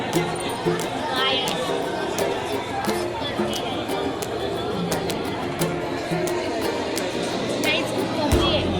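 Dense crowd murmuring in a long temple queue at Tuljapur, a steady close babble of many overlapping voices with sharp clicks and occasional louder calls, ongoing without pause.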